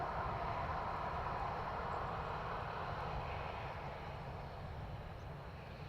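A Ryanair airliner inbound from Kerry lands at Dublin Airport, giving a steady, loud broadband engine roar that holds constant throughout and fades slightly toward the end, with no voices.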